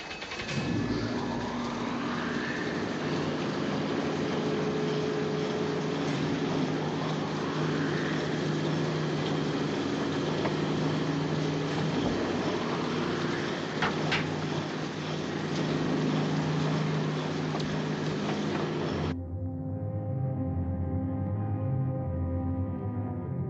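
Submarine engines start and run aboard a vessel in the 1954 film 20,000 Leagues Under the Sea, a dense, loud mechanical drone with rising whines that cuts off abruptly, leaving a low hum.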